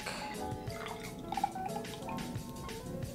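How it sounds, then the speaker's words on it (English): Water poured into a plastic measuring cylinder from a children's Crayola color chemistry lab set, a soft liquid trickle with small dripping, bubbling notes, close and fairly quiet. "Pour water into the cylinder up to the 20"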